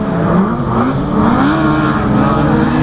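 Autograss race cars tear around the St Neots oval in a finals race, engines roaring loud and continuous with rising and falling revs as the pack drives past, no voices heard over them.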